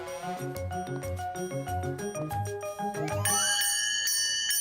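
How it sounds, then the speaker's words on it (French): A bell rung in a French-language animated children's cartoon, a series of bright metallic tones over a bouncy musical score, ending in a sustained shimmering ring as the tune rises, with no talking. "C'est moi qui vais faire sonner la cloche."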